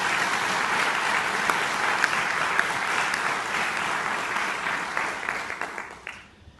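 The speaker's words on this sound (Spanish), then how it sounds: "Denle un aplauso fuerte a Dios" A university audience applauds loudly and steadily, a dense wash of clapping that holds for several seconds before thinning and fading out at the end.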